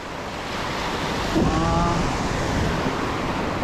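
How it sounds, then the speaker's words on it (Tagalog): Strong wind buffets the microphone over a steady rush of surf at a rocky shore, a constant roaring wash with a brief gust in the middle; no voices. "Tapos malakas na rin hangin."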